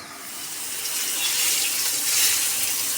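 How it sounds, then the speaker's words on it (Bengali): Water poured into a pot of braised meat being cooked, a steady gushing pour that grows slightly louder, heard alone and up close. "তো এখন পানি দিয়ে দেবো মাংসটা কষানো হয়ে গেছে"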